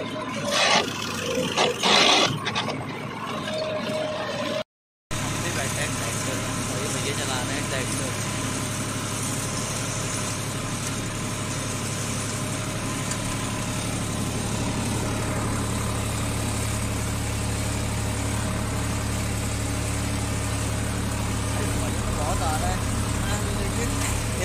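A tractor engine idles steadily in a farm field with a deep, rumbling drone, close and loud throughout, after a brief burst of noise and a short gap at the start.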